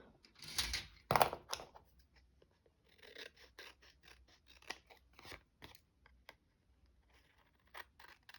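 Scissors snip through a Halloween postcard card stock in a few sharp, close cuts, followed by softer rustling and handling of paper in a quiet room.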